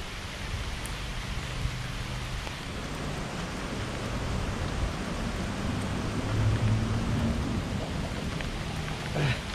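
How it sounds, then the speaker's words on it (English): Steady rain falls with a constant hiss and patter, with a low rumble underneath and no one speaking. "Ooh, that rain cold."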